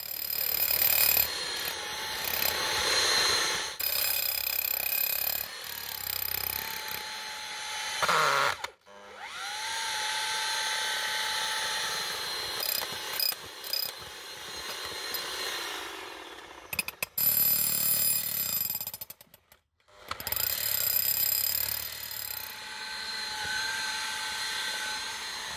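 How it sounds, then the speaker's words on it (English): An extremely big pilot drill bores holes into the ground for ground-screw foundations for a garden room, grinding and whirring loudly in long stretches broken by brief pauses. "So we go around with an extremely big pilot drill."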